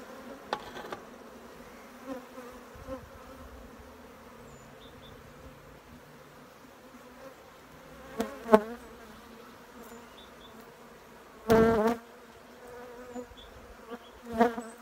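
Native honeybees buzz at their hive in winter, a steady low drone with faint buzzing passes and a few louder bursts as bees fly close.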